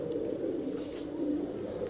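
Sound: racing pigeons cooing

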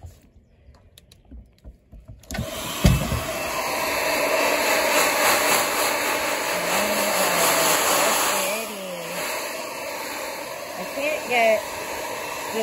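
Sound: blow dryer drying an animal's fur

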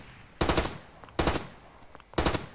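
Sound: gunfire in the video game Far Cry 2

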